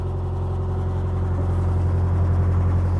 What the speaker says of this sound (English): I'm going to up the revs